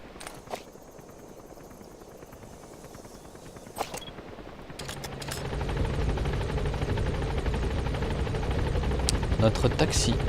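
In Metal Gear Solid V, a support helicopter arrives. Its rotor swells from a faint thrum into a loud, steady, close beat. A few sharp clicks and thumps cut in early on.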